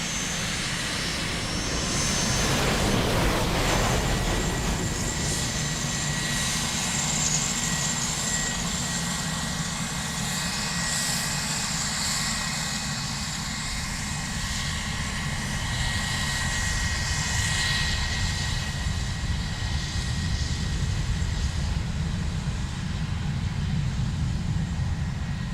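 Ryanair jet aircraft at Dublin Airport on a murky day, a loud continuous engine roar with broad rumble and whine sustained throughout, no pauses, heard close and dominant.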